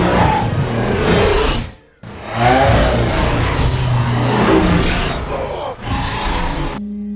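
Street race cars with NOS in a Fast and Furious street race, loud roaring acceleration layered with dramatic film sound, broken by a short sudden silence before the noise surges back.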